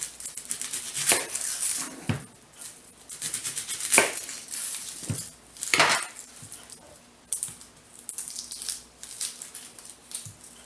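A knife chops an onion on a kitchen cutting board, a series of separate, close, crisp knocks spaced irregularly, with quieter scraping between the cuts.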